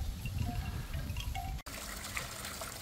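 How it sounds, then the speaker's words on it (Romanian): Water splashes and gushes as a child plays with it at a seaside resort in Albena, a busy, continuous trickling and pouring sound that is close and steady, with a brief cut partway through. "Te joci cu apa aici?"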